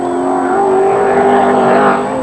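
Race car lapping at speed during the 1991 Tooheys Top 10 Shootout at Bathurst, engine note loud and close with a sustained high-revving whine that climbs slightly, heard alone without commentary.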